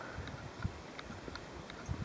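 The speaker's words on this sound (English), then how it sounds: "I'm walking with the horses this morning" Hooves clip-clop at a walking pace as horses move along the Camino pilgrimage route early in the morning. The steps are faint and irregular, a few soft thuds over about two seconds against a quiet outdoor hiss.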